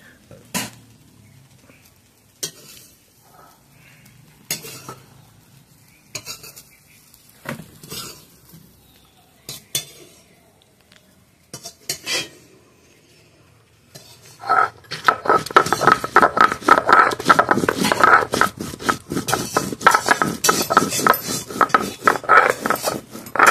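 Fried soybean chunks scooped out of a pan with a metal utensil in a home kitchen, sparse clinks and scrapes at first, then a loud sustained sizzle and clatter of cooking.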